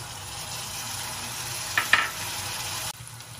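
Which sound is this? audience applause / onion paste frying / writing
onion paste frying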